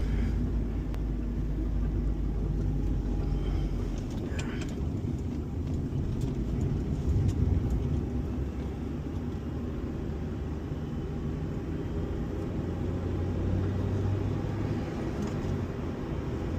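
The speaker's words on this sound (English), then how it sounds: "I absolutely love how good this car runs" An Acura RSX engine runs steadily while driving, a low continuous rumble and road drone heard from inside the cabin with no talk.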